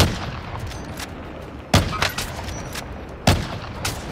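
Gunshots fired at a helicopter in a video game, a few sharp, loud reports spaced about a second and a half apart over a busy background of distant battle noise.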